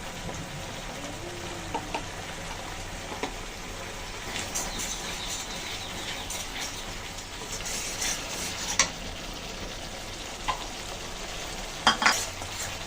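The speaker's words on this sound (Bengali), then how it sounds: "তো মশলাটা কিন্তু মোটামুটি আমি ভালো করেই কষিয়ে নিলাম।" Spice paste with turmeric and ground green chillies frying in oil, a steady close sizzle with occasional sharp clicks of the spatula against the pan, no voices.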